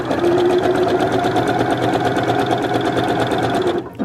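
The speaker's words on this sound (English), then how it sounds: "I'm going to put another piece underneath my presser foot and carry on sewing." Sewing machine chain-stitching fabric mask pieces in a batch, a loud, fast and steady mechanical whir with rapid needle chatter running nonstop at close range, stopping abruptly near the end.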